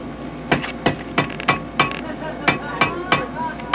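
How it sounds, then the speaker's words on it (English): Hammer blows ring on a blacksmith's anvil at a hammer-in, about eleven sharp, evenly paced metallic strikes close by, each leaving a brief ring. "I find this one of the awkwardest hammer blows to do, is to try to line up your shoulders with your shoulder of your anvil"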